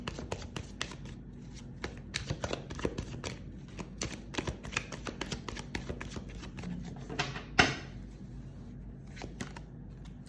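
Tarot cards are shuffled by hand in a steady run of quick, crisp riffling clicks, close and fairly quiet, with a sharper snap near the end and no talk.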